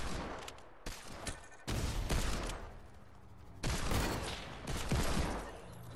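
Pistol fire in a Fortnite match crackles in several rapid bursts separated by short pauses. The shots are loud and close, with almost no talking.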